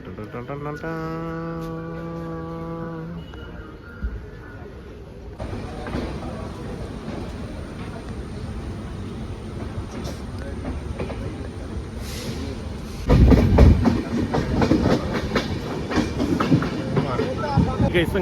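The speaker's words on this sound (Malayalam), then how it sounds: "അങ്ങനെ നമ്മുടെ ട്രെയിൻ എത്തിക്കഴിഞ്ഞിരിക്കുന്നു" A train rolls into a station, its steady rumble and rattling wheels building to a louder clatter toward the end, preceded by a brief tonal chime, with people talking faintly amid the noise.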